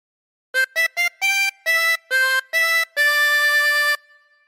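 Single harmonica playing the opening phrase of When the Saints Go Marching In: three short clipped notes, then longer held notes ending in a sustained tone, clean and close with no voices.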